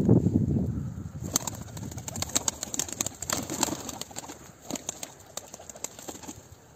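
Rapid clattering wingbeats of a young female pigeon taking off and flying close by, in bursts of flapping, with a few soft bird calls mixed in.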